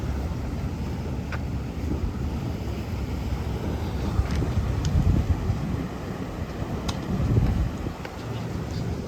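A flotilla of boats passes through Jupiter Inlet in Florida, a continuous low engine rumble and churning water mixed with wind buffeting the microphone.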